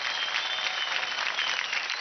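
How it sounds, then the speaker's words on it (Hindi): Audience applause after Zoya and Prince's dance performance on a TV dance reality show stage, a steady, bright wash of clapping from a large crowd heard alone. "जोरदार तालियां हो जाए जोया और प्रिंस के लिए"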